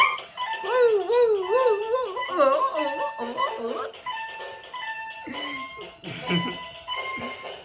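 A dog howls and whimpers in wavering, sing-song tones, with people talking and singing along around it.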